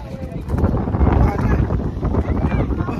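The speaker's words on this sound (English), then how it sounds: "it's a little windy out here" Wind buffets the microphone outdoors in a parking area, a loud, constant low rumble with gusty swells throughout the short stretch.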